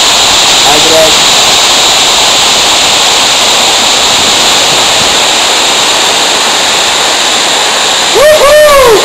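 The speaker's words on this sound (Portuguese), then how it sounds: "essa é a nona cachoeira" A tall waterfall in a gorge, one of a series of falls about 60 metres high, roars as steady, loud broadband rushing water throughout, with faint voices near the start and brief whistle-like chirps near the end.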